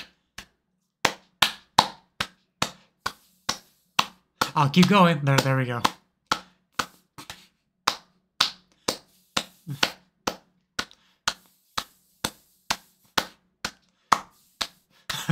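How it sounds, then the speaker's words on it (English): Hand clapping, a steady run of sharp single claps repeated about twice a second, close and loud, pausing briefly while a voice speaks over the middle. "Guys, you better start clapping."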